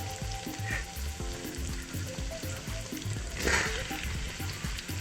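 Capsicums tossed into a hot pan with onions and garlic, a steady loud sizzle and frying hiss with stirring clatter, swelling briefly as the peppers hit the oil.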